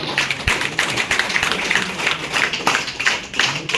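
An audience claps loudly and steadily at a lucky draw event, a dense, continuous patter of many hands close by with no pause.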